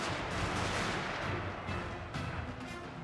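Dense, continuous musket and rifle volleys from a Total War: Fall of the Samurai battle, a steady crackling roar of massed gunfire that holds loud throughout with slight swells.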